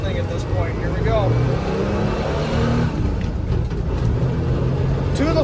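A 1984 Ford Bronco II with steep gears and roughly 85 to 90 horsepower accelerates with the throttle floored; the engine drones steadily and loudly with a heavy low rumble, heard from inside the vehicle, without any sharp rise in pitch.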